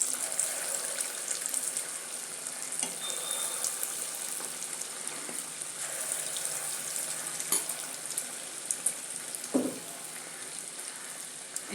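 Spiced kara vada frying in hot oil in a home kitchen, a steady close hiss and sizzle with crackling bursts running throughout, no voices.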